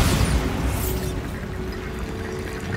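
A Bombarda spell explosion in Hogwarts Legacy: a loud, dense booming burst at the start that decays into a long rumbling, crackling wash of debris noise, with no voices.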